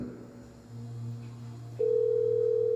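A steady telephone network tone of a call placed to a switched-off phone sounds alone: a low hum at first, then a loud, continuous, unbroken tone starts partway through and holds to the end.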